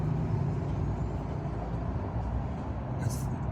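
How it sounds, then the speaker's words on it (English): A loud truck idles right alongside in a college apartment parking lot, a close, low, rumbling drone with a short hiss of air near the end. "loud ass truck right next to me"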